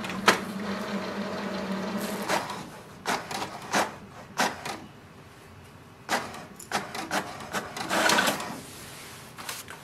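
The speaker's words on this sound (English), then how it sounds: "wait for the printer to print the printer information page" An HP DeskJet 2752e printer prints its information page with intermittent whirring and clacking bursts of paper feed and print-head movement, close by, with no talk.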